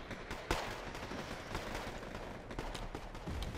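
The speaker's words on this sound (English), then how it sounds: "We've got some artillery firing down." Artillery firing in the war strategy game Wargame Red Dragon, a sharp distant boom followed by a continuous crackle of scattered gunfire and faint further shots.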